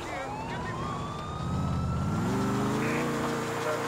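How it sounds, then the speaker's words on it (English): A wailing emergency siren inside the video game GTA The Ballad of Gay Tony, its pitch sweeping up and down under engine rumble and game noise, with a faint voice in the background. "there's an ambulance going haywire"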